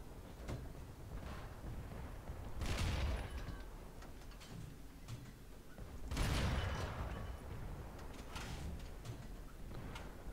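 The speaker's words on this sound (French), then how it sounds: "on dirait qu'il y a eu de l'artillerie" Artillery fire in the War Thunder tank game, two distant booming impacts a few seconds apart, each with a rolling tail, over a low continuous battlefield rumble.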